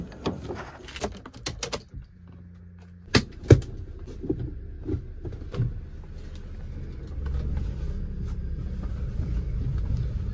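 A car being parked inside at night during Diwali, with a scooter moved back alongside; engine rumble and low idle build steadily, broken by sharp door or latch clunks and some jangling, with no talk.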